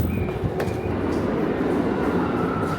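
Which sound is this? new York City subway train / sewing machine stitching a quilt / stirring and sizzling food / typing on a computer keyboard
new York City subway train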